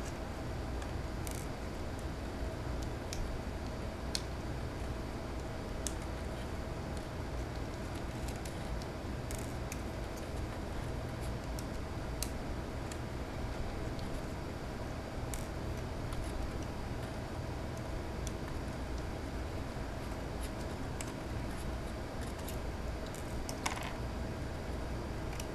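Small screws being backed out of a Seagate FreeAgent Go 2.5-inch external hard drive enclosure, with faint sparse clicks and light scratchy ticks over a steady low hiss.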